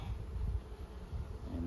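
Honey bees buzz as brood frames are lifted from a hive while nucleus colonies are made up, a steady low drone lasting the whole moment with no talk over it.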